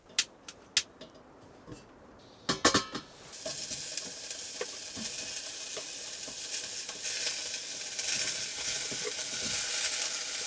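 A few clinks and stirs, then a loud, steady sizzle of chicken and vegetables frying in a hot pot while winter camping, continuing without talk.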